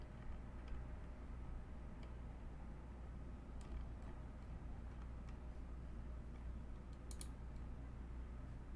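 Typing on an M65-a mechanical keyboard with 67g Zealios switches, heard as soft scattered key clicks over a steady low hum, faint and intermittent with a few sharper taps.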